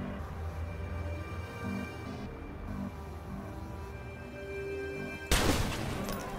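A sniper rifle is fired once in the video game Watch Dogs, shooting through a car windscreen. The single loud, sharp crack comes near the end over a quiet, humming game background.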